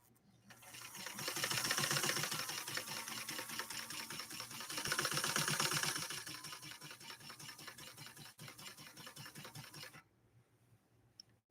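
A New Home Model 703 sewing machine stitches through 100% cotton quilt batting in a fast, steady mechanical rattle that swells twice in loudness, runs for about ten seconds, then stops abruptly.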